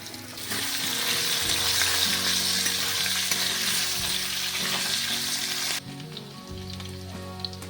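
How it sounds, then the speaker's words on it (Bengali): Large diced potatoes dropped into hot oil burst into a loud, dense sizzle that holds steady for several seconds, then drops abruptly to a quieter crackle with faint utensil sounds. "ওই তেলে আলুগুলো দিয়ে দিচ্ছি। ডুমো করে কাটা একটু বড় বড় সাইজের আলু দিয়ে দিচ্ছি, এগুলো একটু ভাজতে হবে।"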